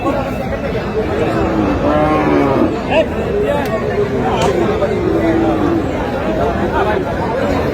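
A cow moos loudly among livestock while a crowd chatters and bargains all around at a busy cattle market.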